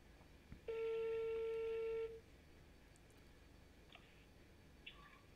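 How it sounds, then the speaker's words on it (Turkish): A telephone rings with one steady electronic tone lasting over a second, followed by near-quiet room ambience with a few faint clicks. "Aha, telefon çalıyor."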